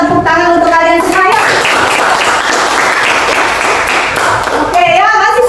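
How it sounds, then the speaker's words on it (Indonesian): Children in a classroom burst into loud, sustained clapping lasting several seconds, framed by a teacher's voice speaking just before and after. "Yuk kita tepuk tangan untuk kalian semua."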